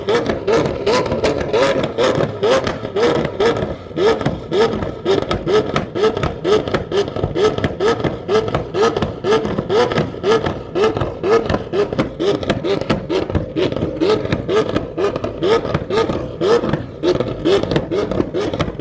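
A big-turbo 2020 Toyota Supra revs hard while shooting flames, its loud engine broken by a rapid, rhythmic string of sharp crackles and pops that keeps going the whole time.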